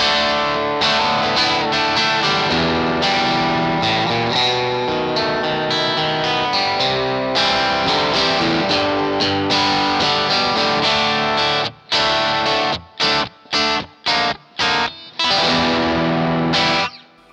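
Electric guitar played through a Boss IR-200 using its Diamond amp Vox emulation, a loud, chorused and driven tone with continuous chords and lines, ending in a series of short stabbed chords separated by gaps, no talking.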